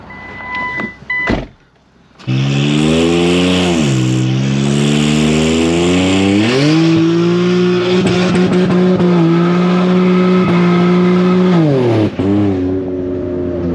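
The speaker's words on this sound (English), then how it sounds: "I spun way too much. I just do a burnout." An Infiniti Q60 doing a burnout with its tires spinning: a loud, close engine roar is held at high revs for about ten seconds, rising and dipping in pitch over a rough, hissing wash of noise.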